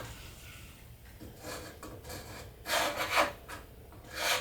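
A scraper drawn over an antique wooden bed to take off the old finish, giving quiet, irregular rasping strokes that grow louder toward the end.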